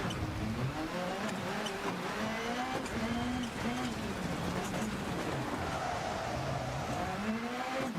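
A rally car in the racing game Dirt Rally 2 drives on a wet stage, its engine droning and rising and falling in pitch through gear changes, with tire noise in a steady, continuous mix and no talk.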